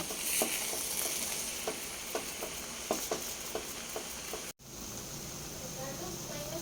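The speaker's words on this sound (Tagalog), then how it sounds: "Siyempre, haluin." Noodles with soy sauce are stirred in a sizzling frying pan, a steady hiss of frying broken by a run of light, irregular scraping taps from the utensil, close up, ending with a brief pause before the sizzle resumes.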